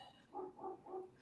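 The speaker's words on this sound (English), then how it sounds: "You hear that barking? That's my neighbor's dog." Three soft barks from a neighbour's dog some way off, evenly spaced in a short run and quiet against the background, with no one speaking.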